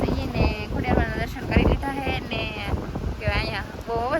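Strong wind buffets the microphone outdoors at a hilltop Khodiyar temple, a steady rumbling roar running under close voices talking throughout.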